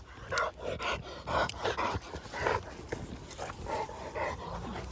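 Dogs in bite work training pant hard and fast in rhythmic bursts, close and fairly loud, with a few small whimpers mixed in and no speech.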